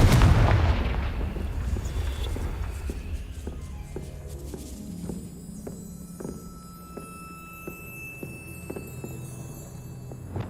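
A Confringo spell explosion in the Hogwarts Legacy video game, heard as a loud blast that slowly fades into a reverberant tail, with sharp clicks and footsteps afterward and a faint high tone.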